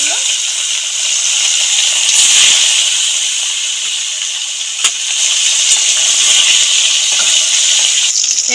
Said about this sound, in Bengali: এপিট ওপিট করে ভালো করে ভেজে নেবো মাছগুলো।